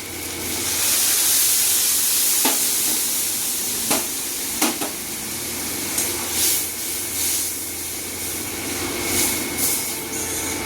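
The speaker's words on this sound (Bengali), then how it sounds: "মশলাটা ভাজা হয়ে গেছে এবারে ডালটা দিয়ে দেবো" Dal poured into fried spices for a fish-head dal, giving a steady hiss of sizzling with a few sharp crackles and spits over it, close and continuous throughout.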